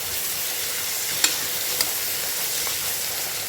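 Onion and garlic sauté in a pan for basmati ghee rice, a steady soft sizzle with a few brief utensil scrapes and clicks, close and moderately quiet, no voices.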